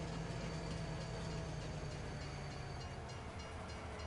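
A train brakes in Farming Simulator 19 with a steady, low rumbling rail drone and a faint tonal whine, continuous and moderately quiet throughout.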